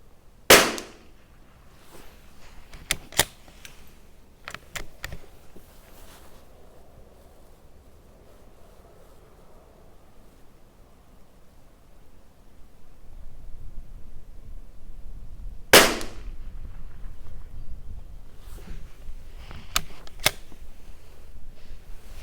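Shots from a Tikka T1x .22 LR rimfire rifle during an ammunition test outdoors: a handful of sharp, distant-sounding cracks spaced seconds apart, a pair near the start and another cluster later, over a low breezy background.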